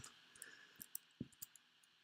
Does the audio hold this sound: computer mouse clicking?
yes